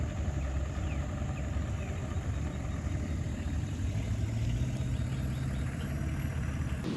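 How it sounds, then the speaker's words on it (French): River ferry driven by outboard motors, heard as a steady low engine drone that holds throughout at moderate level, with constant outdoor background and no speech. "C'est un bac qui fonctionne avec des moteurs hors bord"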